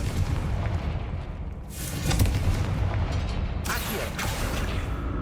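In Hogwarts Legacy, a Confringo blast spell bursts with deep booming explosions and rumbling impact over a dense, loud game soundscape, with bright crackling flares around two and four seconds.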